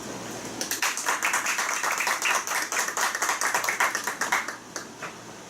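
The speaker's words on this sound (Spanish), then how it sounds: "solicito por favor un fuerte aplauso" A small audience at a parliamentary workshop applauds. Sharp individual hand claps are heard close by in a quick, dense patter that builds, holds steady, then thins out to a few last claps.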